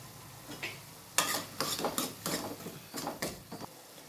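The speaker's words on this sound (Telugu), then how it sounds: "కొంచెం కరివేపాకు కూడా వేసుకుందాం" Curry leaves go into a hot pan for a Chennai-style brinjal and moong dal curry, with a series of scraping, clinking stirs of a utensil against the pan over a faint background sizzle.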